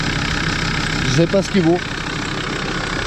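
An unfamiliar car engine on a wrecked vehicle idles with a steady, even drone, while someone speaks briefly over it in the middle.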